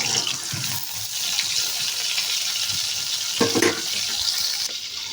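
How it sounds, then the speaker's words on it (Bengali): Potatoes fry in oil for biryani on a broken home stove, giving a steady, close sizzling hiss that runs throughout, with a brief louder flare near the end. "বিরিয়ানি আলুটা আগে ভাজে তুলে দিই।"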